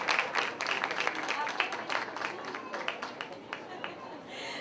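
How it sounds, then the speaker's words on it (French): A morning audience applauds a boy named Vincent Gosselin, a steady, fairly close patter of hand clapping that fades toward the end, with a voice speaking through it. "Une bonne main d'applaudissements pour Vincent Gosselin qui reçoit ce matin Sylvie Roberge."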